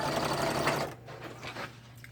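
A sewing machine stitches a zigzag row along the rounded edge of a vintage wallpaper envelope, a fast steady buzzing whir that stops abruptly about halfway, leaving quieter handling sounds.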